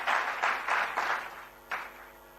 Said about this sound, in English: I would request you all to give a big round of applause to these young minds of Saraswat BBA.